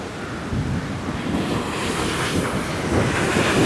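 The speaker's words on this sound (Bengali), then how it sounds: "দেখো জল কীভাবে ঝাঁপিয়ে ঝাঁপিয়ে যাচ্ছে, কি স্পিড জলে" Water gushes hard through the open gates of a dam, a steady, loud, broadband roar that swells slightly over a few seconds, with wind buffeting the microphone.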